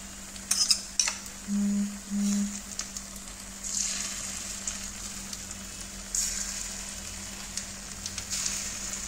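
Beaten egg poured over an uthappam in a pan on low flame with ghee, producing soft sizzling swells with light clinks of utensils near the start and a steady low hum beneath.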